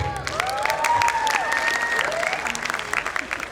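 An audience at a college tribute event for mothers breaks into dense, continuous applause mixed with some cheering and voices, loud and close, then fading toward the end.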